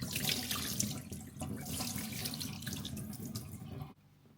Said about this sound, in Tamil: சிக்கனை கழுவியாச்சு